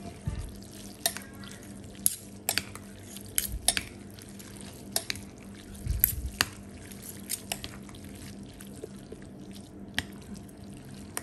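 Noodles being stirred in a pot while cooking Mie KSC, giving repeated soft wet scrapes and clinks against the pot over a steady low simmering hiss, close up with no talk.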